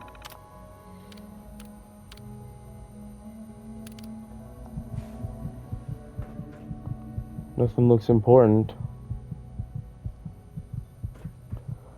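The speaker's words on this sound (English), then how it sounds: "I can still hear my heartbeat going wild." In the Fallout 4 video game, a racing heartbeat thumps in a fast, steady pulse over a low hum, growing louder as it goes, with a voice speaking briefly over it.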